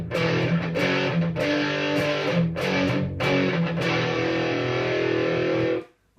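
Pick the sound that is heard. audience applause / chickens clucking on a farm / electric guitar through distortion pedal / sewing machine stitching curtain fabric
electric guitar through distortion pedal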